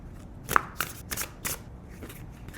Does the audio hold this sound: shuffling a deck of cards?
yes